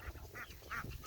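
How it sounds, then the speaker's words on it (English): Farm ducks quack faintly at a distance in a short burst of two or three calls, with no talking over them. "So he's in there harassing the chickens and the ducks."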